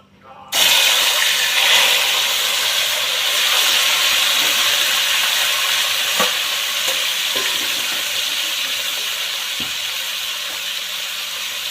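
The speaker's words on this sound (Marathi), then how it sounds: "ते आता आपण तेलात टाकून वाफवून घेऊया" Chicken marinated in curd, turmeric and salt drops into hot oil with a sudden loud burst of sizzling, then a steady, close hiss of frying and steam that eases only slightly over several seconds.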